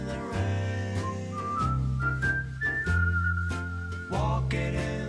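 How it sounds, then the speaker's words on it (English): Close, clear whistling of a gliding melody carries over steady instrumental accompaniment, with no talking. "Can you whistle? Have a more whistling."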